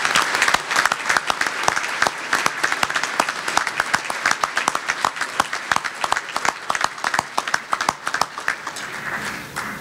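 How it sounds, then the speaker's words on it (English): A banquet crowd at a Sailor of the Year ceremony gives sustained, lively applause, dense overlapping claps continuing for about ten seconds at a steady level. "How about a round of applause for our fantastic community supporters and presenters?"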